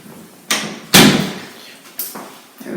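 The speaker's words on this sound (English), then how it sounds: "Close that door." A door is closed during a livestreamed men's haircut, a sharp thud followed by softer bumps and knocks in a small room. A few short noises come before and after it.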